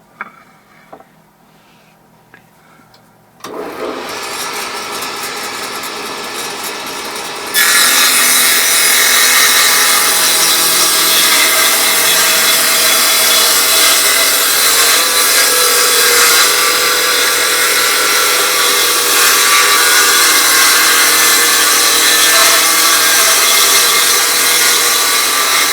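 A power saw rips thin strips from a wood board, starting loud and steady after a short quiet lead-in, then growing louder and harsher as the blade bites through the length of the cut.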